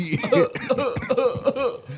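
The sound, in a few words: person coughing while sick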